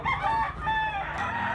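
A bullstag gamefowl rooster crows nearby, one drawn-out cock-a-doodle-doo call filling the short moment, with faint background noise.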